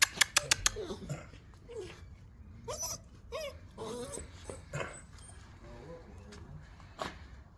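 Whimpering and yips from a dog, the father of a litter of puppies for sale, in short high bursts near the microphone, with people talking around it.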